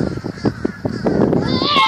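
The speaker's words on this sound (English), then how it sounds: "Do y'all guys hear those birds?" Several crows cawing in a park, harsh repeated calls in a loose rhythm, fairly close and loud over outdoor background noise.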